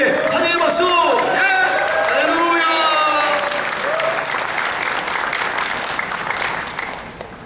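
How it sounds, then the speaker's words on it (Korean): A church congregation gives loud, warm welcoming applause during a Sunday worship service, a dense sustained clapping that gradually fades, with voices heard over it. "뜨겁게 우리 교회 특유의 환영의 박수."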